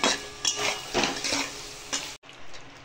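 Close scraping and clinking of a utensil stirring goat liver as it sautés in a pan, soft sizzling underneath, with a few strokes and a brief pause near the end.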